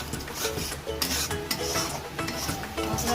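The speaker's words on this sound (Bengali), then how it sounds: "মশলাটা ভালো করে ভেজে নেব।" Masala spice paste fries in a pan over low to medium heat, a close scraping, rasping stir of a spatula over a steady soft sizzle.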